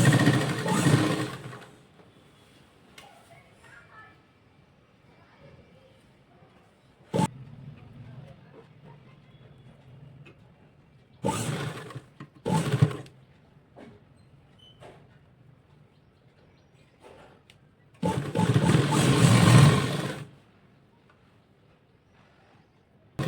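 A sewing machine stitches the seam of a girl's Barbie-style frock in three loud motor bursts, at the start, near the middle and near the end. Quiet pauses between runs carry faint handling noise.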